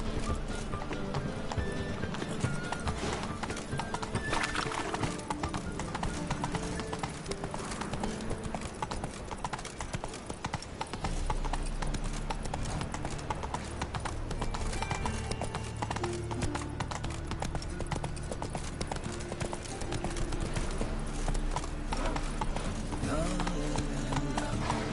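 Roach, a horse in the video game The Witcher 3, gallops with a continuous rhythmic clip-clop of hooves and occasional neighs, set against a dense bed of game music and effects, with someone talking over it.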